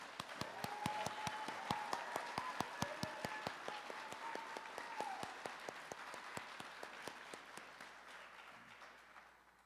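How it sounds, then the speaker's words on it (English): Audience applause at a law enforcement training academy graduation ceremony, a steady wash of many hands clapping that gradually fades toward the end, with a few sharper individual claps and a faint voice in the background. "Let's give them all a big round of applause."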